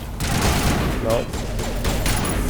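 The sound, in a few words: sniper rifle shots in the video game Mass Effect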